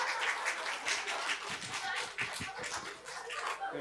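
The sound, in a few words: audience applause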